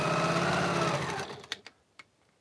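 Sewing machine stitching a quilt border, a fast steady motor hum and needle chatter that winds down and stops, followed by a couple of sharp clicks.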